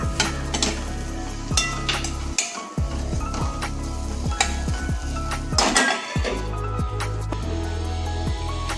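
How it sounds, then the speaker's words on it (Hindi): Hot oil sizzling and crackling in a pan as dal is tempered, continuous frying hiss broken by sharp bursts of spattering and a few clinks of a spoon against the pot. "हम दाल को तड़का देंगे।"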